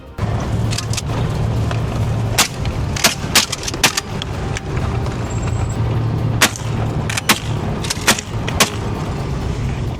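Rifle shots at a charging hog during a dawn raid, several sharp cracks scattered across a steady rumbling vehicle-like background, fairly close and loud.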